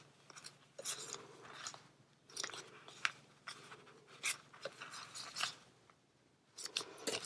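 Scissors snip the excess binding thread after a journal has been stitched and knotted: a handful of sharp, close cuts with short quiet gaps between them.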